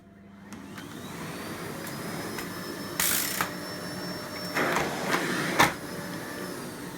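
A Miele Blizzard CX1 Comfort bagless vacuum cleaner runs steadily throughout, its whine holding constant while several sharp clicks and thumps from handling the collapsing wand break in near the end.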